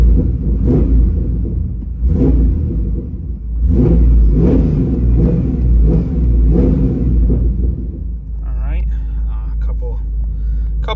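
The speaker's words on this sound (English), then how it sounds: "Couple baby revs." A 1996 Pontiac Trans Am WS6 idles with a deep, steady rumble, then gets several short, light blips of the throttle that swell and fade, close by and loud. Near the end a voice talks over the idle.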